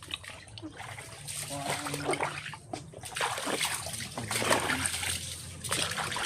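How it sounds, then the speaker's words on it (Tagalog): Water flows down from upstream through a mangrove, splashing and trickling in an uneven, continuous wash, with a few faint voice-like sounds mixed in. "Agos na yung tubig galing sa taas."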